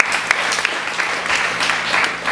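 A congregation at a church service claps in praise, a dense, continuous wash of many hands applauding throughout, fairly close and loud.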